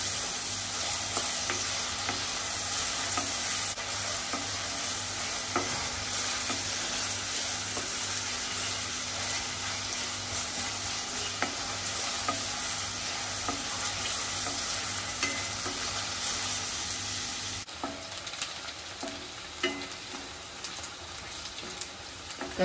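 Onion frying in a pan for a dish of dried shrimp and brinjal, a dense, continuous sizzle close up with occasional faint stirring scrapes, the tone thinning slightly near the end.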